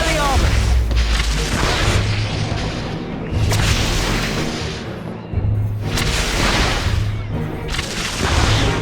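Booming magical blasts and impact effects from spells cast in Harry Potter and the Half-Blood Prince, including Expelliarmus, come in loud repeated bursts over game music and noise.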